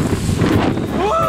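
Sea breeze buffeting the microphone on a boat trip off Cape Town's waterfront, a steady rushing wind roar close up, with a faint tonal whistle rising near the end.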